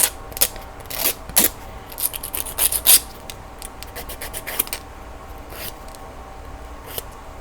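A hand file rasps along the edges of gel nail tips in quick, close strokes, coming in short bursts of scratchy friction with brief pauses between them and nobody talking.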